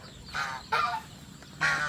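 Rhode Island Red chickens clucking in a backyard garden pen, three short separate bursts of close clucking with quiet gaps between them and no voices.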